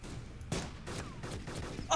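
Machine gun fire in the video game DayZ Epoch, several sharp bursts spread over two seconds, fairly faint and distant-sounding.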